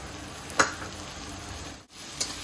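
Onions, curry leaves and green chili frying in a pan give a soft, steady sizzle with a few brief crackling spikes. No one speaks.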